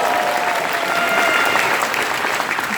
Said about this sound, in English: Let's hear it for Nancy. Woo!